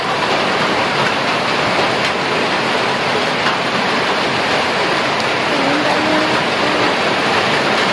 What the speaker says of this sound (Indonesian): hujannya makin deras nih